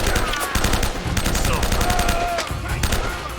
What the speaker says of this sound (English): This is, however, offset by the quality sound effects in this game. Some very punchy guns